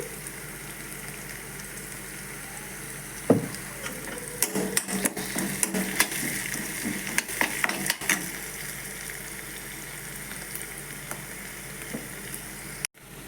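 A tempering of spices crackles in hot oil as turmeric goes in, made for seasoned buttermilk. A continuous near sizzle carries bursts of sharp pops and the clatter of stirring, with no voices.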